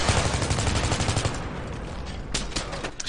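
Sustained rapid automatic gunfire crackles in the Battlefield 3 beta video game, a dense continuous rattle that thins out near the end before a few closer, louder shots.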